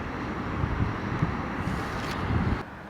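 Steady wind buffeting the microphone outdoors at the Kremlin in Nizhny Novgorod, a continuous low rumbling roar with gusty swells, easing slightly near the end.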